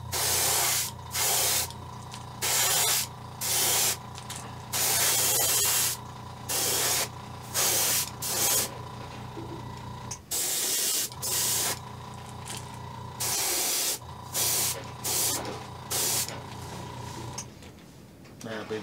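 Spray paint hissing onto a fishing lure in a series of short, close bursts separated by brief pauses, with a steady mechanical hum underneath.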